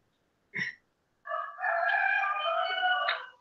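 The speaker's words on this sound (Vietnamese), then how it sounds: "Nghe rồi gà gáy giữa trưa." A rooster crows at midday, one short call followed by a long, loud crow of about two seconds, close by with nothing else around it.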